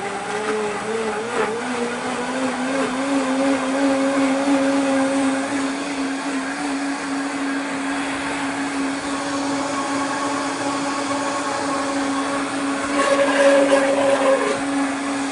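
A powerful Vitamix blender whirs steadily as it blends celery and carrots, the motor pitch shifting slightly as the load changes, loud and close throughout with no talking.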